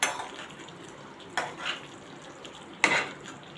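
Stuffed bitter gourds frying in a pan over a medium flame are stirred, with two distinct scraping strokes over a soft, steady sizzle, close and without talk.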